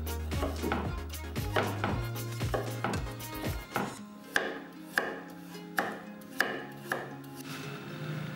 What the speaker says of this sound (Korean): 그리고 1cm 정도로 어슷 썰어줍니다